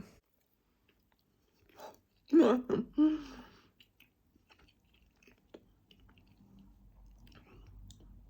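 Someone chews a gooey Biscoff Prodough protein treat close up, with a few soft, sticky, wet mouth sounds in a short cluster, then faint quieter chewing.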